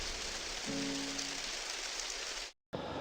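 Heavy rain pours steadily in a deer park during the autumn rut, a dense close hiss of drops on surfaces with a brief low tone early on and a sudden cutout near the end.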